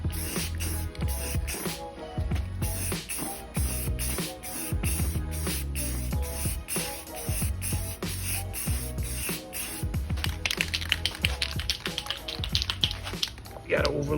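A spray can lays down a coat of paint in a DIY paint job. Steady hissing bursts run over background music.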